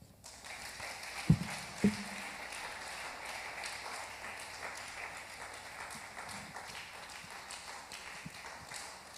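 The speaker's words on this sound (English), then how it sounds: "Keep clapping, keep clapping, keep clapping, keep clapping." Applause from a church audience after a talk, a steady patter of clapping that carries on at moderate volume, with a couple of sharp thumps near the start.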